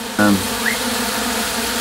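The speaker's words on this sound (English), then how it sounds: "I'm guessing these are my own bees, because I've got a hive just around the other side" Honeybees buzzing close by near a hive beside a house, a loud sudden buzz as one flies past, then a softer continuous hum of several bees lingering in the background.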